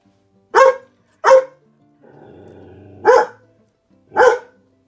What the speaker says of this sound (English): He barks at everything he hears.